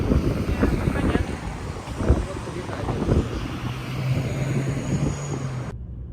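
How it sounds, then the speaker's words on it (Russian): Strong wind in Abu Dhabi buffeting the microphone with a rough, gusty roar, a low engine hum underneath, cutting off abruptly at the end. "Ветер сильный прям. Очень сильный."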